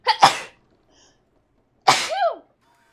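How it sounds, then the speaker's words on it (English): Two close, loud sneezes about one and a half seconds apart, the second ending in a falling vocal squeal, with near silence between them. "I'm gonna sneeze."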